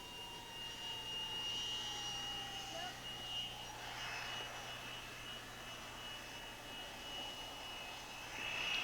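Jet aircraft engines on an aircraft carrier flight deck whine and roar steadily at a distance, a high pitched tone sweeping and shifting over a constant mechanical rumble.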